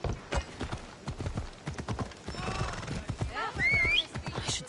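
Horse hooves clip-clop in a fast, close rhythm in a video game, with snorts and whinnies and a voice speaking over the hoofbeats.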